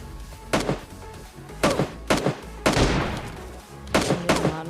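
Gunfire rings out in the video game PUBG Mobile Lite, with several loud bursts of shots in quick clusters separated by short pauses, close and punchy, with a faint voice in the background.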